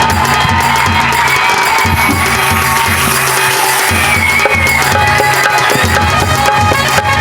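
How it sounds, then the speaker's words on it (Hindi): A crowd cheers and claps at a Jain temple worship event in Dadar, loud sustained cheering and applause over music, with no clear pauses. "जोरदार तालियां एक बार"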